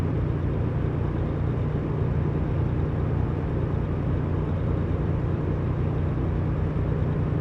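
Inside the cab of a Kenworth T680 truck at highway speed, a steady, loud road roar with a deep low rumble carries on unbroken, with no voices.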